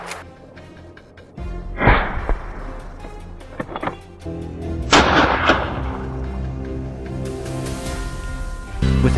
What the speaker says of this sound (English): With every shot that rings out across the fields